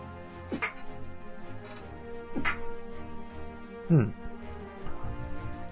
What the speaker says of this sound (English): Ah, I have to sneeze.